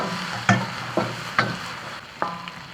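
Beef lung pieces hit a hot wok with chopped chili and Sichuan peppercorns, sizzling steadily while a spatula scrapes and stirs in four sharp, close strokes.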